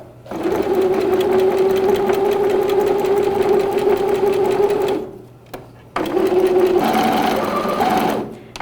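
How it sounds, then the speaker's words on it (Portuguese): Sewing machine stitching a bib seam from mark to mark with a backstitch, running loud and steady for about five seconds, pausing briefly, then a shorter burst of stitching. "Nós vamos costurar dessa marcação até essa marcação aqui. Começo com o retrocesso."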